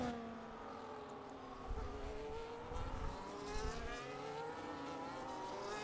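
Race car engine in a racing video game set at a Spain circuit, droning and rising in pitch as it comes through a turn, steady and moderately loud with shifting revs and no talk.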